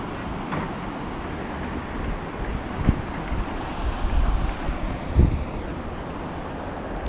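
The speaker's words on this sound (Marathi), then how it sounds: "आणि थंड वारं सुटलेलं आहे" Cold wind blows across a mountain road near Nathu La in Sikkim, with water flowing below among tall trees. It makes a steady, fairly loud rushing buffet, like wind on the microphone, with a few brief bumps and no talking.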